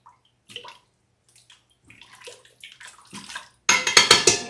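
Vegan cream sauce is poured over layered potatoes and onions, a quiet stretch of faint handling noises giving way to a loud, close, splashy pour in pulsing gushes at the end.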